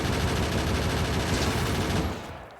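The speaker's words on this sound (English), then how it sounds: "The piercing rounds just go straight through those worms and allow you to clear out the area a lot faster" Factorio turrets firing piercing rounds at worms in a rapid, continuous stream of dense machine-gun shots that stops abruptly near the end, leaving a brief fade.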